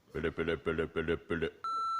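A voicemail beep sounds on a phone in an animated show: a long, steady electronic tone follows a rapid run of syllables that match a recorded greeting, ending the clip.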